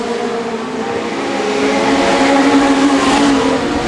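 Legend race cars in a heat circle a track, engines droning loudly and steadily with a rising, sustained buzz as the pack passes, no voices over it.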